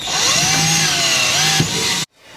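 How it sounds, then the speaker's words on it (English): A power drill with a 1/4 inch bit drilling into an RV wall whines steadily at high speed, its pitch dipping slightly under load, then stops abruptly, leaving quiet room tone. "So I'm going to use my 1/4 inch drill bit and use a pop toggle"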